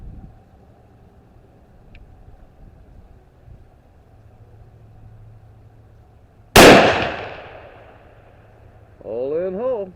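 A single sharp rifle shot from a Howa 1500 action with a stainless prefit barrel cracks loudly mid-clip and rings out, after a stretch of low rumbling background, followed by brief talk.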